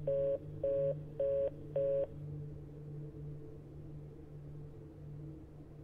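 Phone ringback tone in the game The Suicide of Rachel Foster, four evenly spaced beeping pulses in the first two seconds over a low steady hum that continues afterward.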